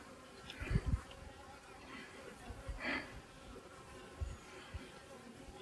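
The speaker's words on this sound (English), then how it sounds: "Bunch of really pissed off bees here that are coming out wondering what the hell is going on here." Disturbed bees buzz in a steady swarm drone while their hives are moved in winter in Venjan, Sweden, with a few close, louder passes and soft knocks and handling noises.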